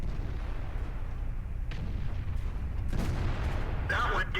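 Tank cannon shots in the World of Tanks video game, a T28 firing at an E100, booming over a steady low engine rumble, with a couple of sharp reports toward the end.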